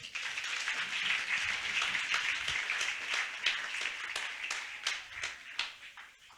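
A church congregation applauds and cheers in praise of Jesus, a steady, fairly distant wash of many hands clapping that thins into scattered claps toward the end.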